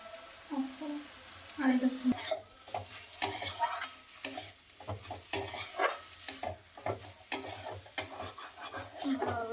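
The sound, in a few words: stirring cabbage momo filling with egg in pan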